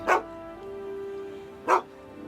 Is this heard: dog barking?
yes